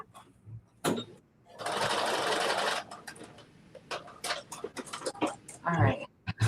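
Sewing machine stitching a coat in a home sewing session, one steady whirring run of about a second up close, surrounded by clicks, fabric handling and a speaking voice.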